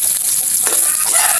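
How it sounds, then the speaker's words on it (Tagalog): Pork hock sautés with garlic and onion in a pan, giving a close, steady, bright sizzle throughout. "Gigisa lang muna natin yung ating pata"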